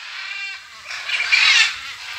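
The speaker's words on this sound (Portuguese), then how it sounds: "Ó, outras araras ali, ó." Harsh, raspy squawks from macaws near their nests, loud and close, with two overlapping calls.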